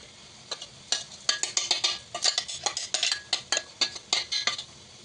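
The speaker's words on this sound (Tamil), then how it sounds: "பொடியை சேர்த்துட்டு நல்லா ஒரு கிண்டி கிண்டிக்கலாம்" A spoon scrapes and clinks against a pan while ground millet powder is stirred in for kambu laddu, a quick, irregular run of metallic scraping strokes, close and fairly quiet.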